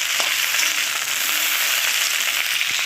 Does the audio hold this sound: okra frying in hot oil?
yes